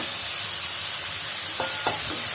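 Small soya chunks go into a hot pan of spice powders for a kurma, a steady close sizzle and hiss with a few soft scraping stirs toward the end, no voices.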